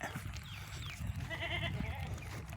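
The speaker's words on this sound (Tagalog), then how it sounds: "Yan ang mga kambing ko." Goats bleat nearby, a couple of wavering calls rising over a low rumble of outdoor background and scattered movement.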